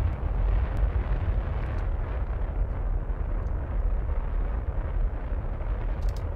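A rocket engine fires in a space video game, a loud steady low roar with rumbling, continuous for several seconds with no talk over it.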